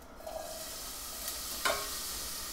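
Onions hitting a hot pan with a soft, fairly quiet sizzle and a brief sharp crackle burst partway through, otherwise a low steady frying hiss.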